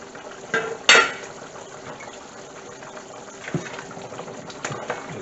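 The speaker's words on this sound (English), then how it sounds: "Give it a little stir here" Chicken curry with potatoes being stirred in a pot, a couple of clear clanks and scrapes against the pot over a steady bubbling simmer, with no talking.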